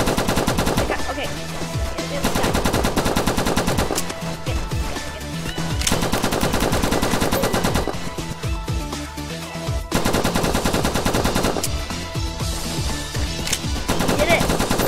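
Automatic gunfire in the Roblox game Squadron comes in long rapid bursts, loud and close, broken by short gaps, with players talking faintly underneath at times.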